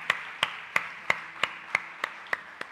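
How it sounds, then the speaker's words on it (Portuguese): A church congregation claps in unison during a Brazilian Portuguese worship service, giving nine sharp, evenly spaced claps on a steady beat at moderate loudness, with no voices over them. "Você pode aplaudir ao Senhor?"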